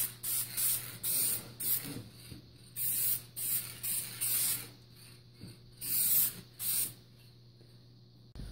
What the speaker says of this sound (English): I'm going to use a little aerosol, just a little, deft satin, and just seal this paint in